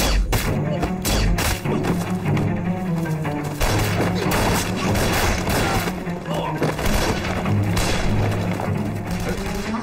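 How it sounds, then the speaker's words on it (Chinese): Gunshots crack out in a tense scene from a drama series, with sharp repeated bangs and thuds over dense, loud commotion as people shout throughout. "枪声在哪儿啊？"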